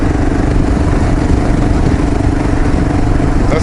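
A KLR 650 motorcycle engine drones loud and steady on a short ride to the store, a constant low thrum with wind rushing over it.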